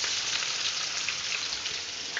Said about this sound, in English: The karai is nice and hot, so in with the oil.